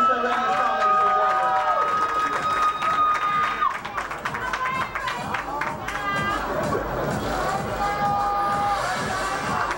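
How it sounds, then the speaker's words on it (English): At a Chicago swimwear pageant, a large crowd cheers, whoops and claps continuously for a contestant, loud and sustained, with bursts of shouting over steady applause. "Make some noise for Irania Stone, ladies and gentlemen"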